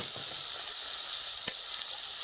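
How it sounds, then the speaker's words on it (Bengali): Ginger garlic paste frying in hot oil, a constant bright sizzle close by with one sharp tap from a utensil midway. "আদা রসুনটা একটু ভাজা ভাজা হয়ে গেলে আদা রসুনের কাঁচা গন্ধটা চলে যাবে।"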